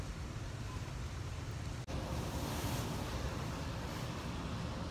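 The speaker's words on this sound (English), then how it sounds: "It's fucking windy and I'm scared." Strong wind buffets a balcony in a constant loud rush of broadband noise, roaring and gusting against the microphone with only a momentary dropout partway through.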